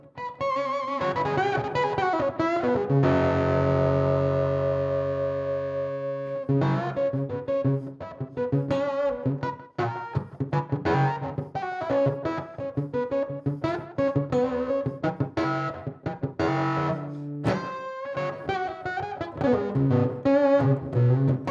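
Electric guitar played through a Mythos Argonaut octave fuzz pedal, with a sustained fuzzy chord and then choppy strummed and picked phrases carrying a bright octave-up edge, loud and close with no talking.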